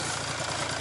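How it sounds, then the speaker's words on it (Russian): A BRP Scandic 550 snowmobile engine runs steadily up close in snow, a dense continuous mechanical drone with slight throttle variation over a brief moment, no voices. "Ты подгазовывай, я буду тянуть лыжу."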